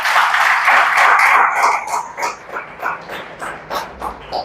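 Audience at a college gathering breaks into loud, dense applause that holds steady for about two seconds, then thins into scattered, fading claps.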